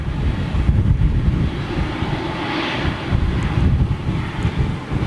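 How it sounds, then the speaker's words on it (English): Jet airliner landing at Toulouse with thrust reversers deployed, a loud broad roaring rumble with wind buffeting that swells and holds for several seconds. "Look, it's got its reverses on."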